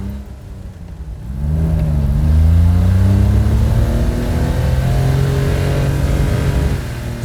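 A small Honda Beat car engine revs and strains steadily uphill, rising in pitch as it pulls under load, loud and close with no talking.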